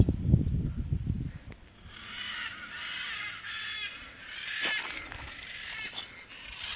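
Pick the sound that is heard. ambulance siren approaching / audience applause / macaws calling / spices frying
macaws calling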